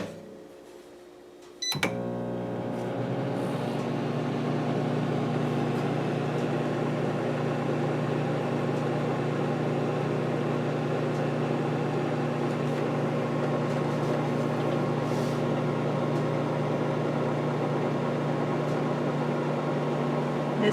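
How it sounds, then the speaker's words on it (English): A low-wattage microwave oven, newly bought, starts up with a click and then runs steadily with a constant electrical hum and whir, loud and close, without pause for the rest of the clip. "This is a lower wattage microwave."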